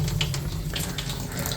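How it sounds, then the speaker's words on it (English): Hot water running full blast from a sink faucet heated by a Thermomate water heater, a steady loud close gushing stream with a constant splashing hiss and no pauses. "this is as much water as I can have coming out of here"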